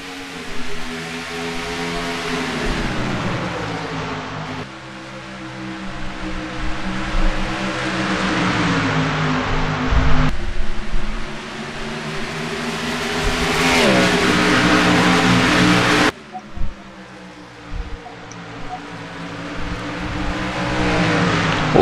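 Race cars starting a Cup Series race at Phoenix Raceway, a loud pack of engines roaring and revving, with repeated rising pitch sweeps and abrupt cuts as cars accelerate past up close.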